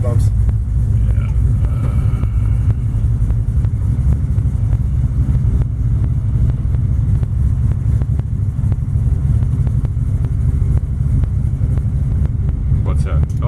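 A 1955 Chevy 210 resto-mod with a 427 engine rolls over tall speed bumps, its low engine rumble steady and close from start to end with light knocks and rattles from inside the cabin.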